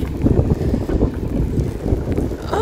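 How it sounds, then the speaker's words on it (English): Strong wind buffets the microphone on the Oregon coast, a loud, rough, continuous low rumble with gusty surges and no voices. "It could be a bit windy."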